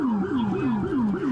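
A police siren wails in a repeating rising-and-falling pattern, steady and loud, about three sweeps over a second and a half with no talk over it.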